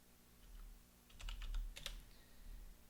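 Quiet keystrokes on a computer keyboard, a short burst of several clicks in quick succession, faint and close, with no talking.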